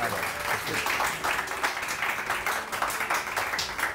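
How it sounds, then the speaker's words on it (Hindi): Studio audience on a Pakistani morning TV show claps in a dense, sustained burst of applause, fairly loud and even throughout. "बहुत सारी तालियां डॉक्टर सीमा राहिल के लिए।"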